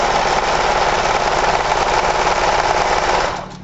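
A sewing machine runs steadily, stitching a drawstring cover: a fast, even mechanical rattle at close range that holds for over three seconds, then winds down and stops at the end.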